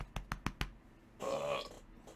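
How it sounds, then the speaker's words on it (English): A man lets out a loud, drawn-out belch after first thumping his chest four times in quick succession, the burp rising and then fading away. "To smash my chest and burp."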